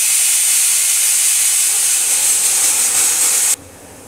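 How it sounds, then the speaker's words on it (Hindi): A kitchen pressure cooker boiling potatoes lets out a loud, close, steady high-pitched steam whistle and hiss that holds for several seconds, then cuts off abruptly. "कुकर ने मुझे देख के सीटी मार दी है।"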